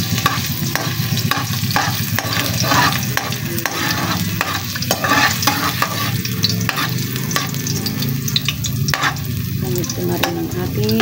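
Ginger frying in a pan for a seafood curry gives a steady, loud sizzle with repeated scraping stir strokes throughout, and no talking.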